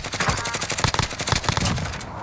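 Rapid automatic gunfire in a Warzone battle royale match, a dense burst of sharp, close shots in quick succession that cuts off after about two seconds.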